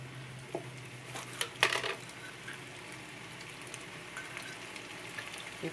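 Potatoes frying in a hot pan give a quiet, steady sizzle, with a few sharp clinks of utensil against the pan early on and no talk.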